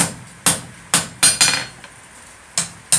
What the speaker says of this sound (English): Hit it down in that direction, and then make sure it sits on the edge of the anvil and bump it back.